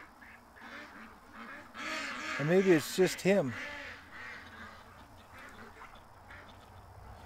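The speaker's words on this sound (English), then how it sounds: "it looks like another duck's down there with him" Duck quacks in a quick cluster of several loud, nasal calls, close by and outdoors, with someone talking over and around them.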